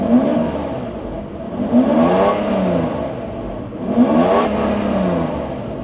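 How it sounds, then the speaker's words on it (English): A Mercedes-Benz S72 AMG W140 engine revving up twice in rising, swelling sweeps, idling between the revs with a steady mechanical hum, loud and close. "let's get inside, explore and start this unique Benz."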